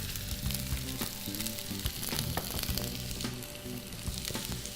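Onions sizzle steadily in hot oil in a pan, a dense, even crackling hiss heard up close for the whole stretch, with no one talking.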